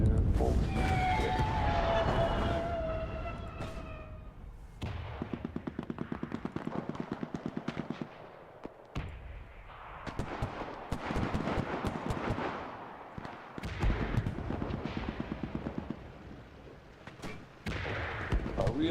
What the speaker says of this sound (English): Damn, those are shots. Oh, that's loud, dude.